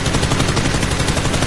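Rapid automatic gunfire from a video game firefight, loud and continuous, a dense burst of shots with no pauses.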